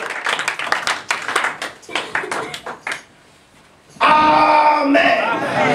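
A church congregation claps rhythmically under a preacher's voice, then bursts into loud, sustained applause and cheering after a brief quiet pause.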